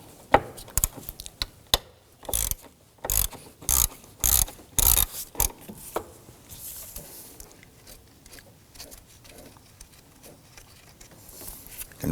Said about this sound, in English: Now I'm using a 12mm socket with an extension here.